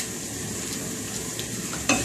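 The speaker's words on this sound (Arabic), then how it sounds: "احط الشعريه بقى تسخن" Vermicelli heating in oil in a pot on a stovetop, giving a steady close sizzle and fry hiss throughout, with a brief sharp scrape or clink near the end.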